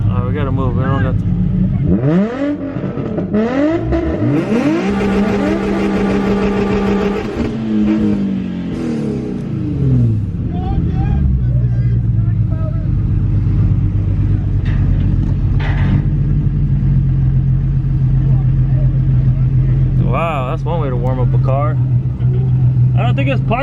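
Cars rev their engines at a Six Flags car show, including a Nissan 350z and a Dodge Scat Pack, with loud rising and falling revs and steady engine rumble running under nearby talk throughout.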